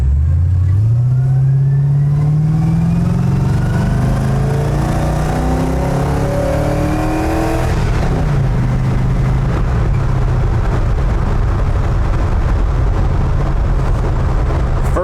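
A loud 1973 Chevrolet C10 pickup with an LS engine swap revs hard, climbing steadily in pitch, dropping briefly at a gear change, then roaring on under strain, close up.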